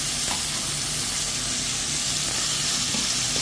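Noodles sautéing in a hot pan give a loud, steady, broadband sizzle that hisses without a break for several seconds, close up with no voices over it.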